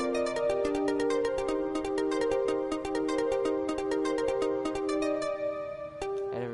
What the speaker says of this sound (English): And now we go to this complicated blue note part